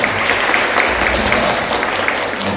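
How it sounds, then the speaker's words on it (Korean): In a Korean church Sunday service, the congregation breaks into loud, dense applause to welcome visiting guests, a continuous roar of clapping close by. "우리 저 뒤쪽에 계시는데 우리 큰 박수로 환영하겠습니다"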